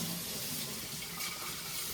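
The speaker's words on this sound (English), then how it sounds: "I'm filling each jar up with hot water" Hot tap water runs steadily into a glass canning jar at a kitchen sink, a continuous close rushing splash with no talk over it.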